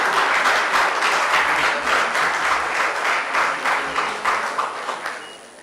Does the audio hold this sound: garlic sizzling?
no